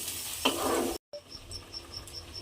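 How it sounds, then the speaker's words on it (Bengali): Grated carrot for halwa is stirred in hot ghee, giving a close sizzle with a scraping stroke. After a short silent break, a fainter hiss continues under a repeating high chirping tone, with no voices. "ঘিয়ের মধ্যে গাজরটা দিয়ে আবারও খুব ভালোভাবে মিশিয়ে নিয়েছি এবং বেশ কিছুক্ষণ এইভাবে একটু নাড়াচাড়া করে রান্না করে নিয়েছি"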